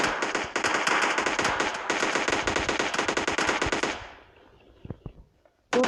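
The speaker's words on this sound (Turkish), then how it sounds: "Aynen bu adamlar bana vurdular hatta." Rapid automatic gunfire in PUBG Mobile Lite, loud and continuous bursts for about four seconds, then trailing off into a few scattered distant shots and silence.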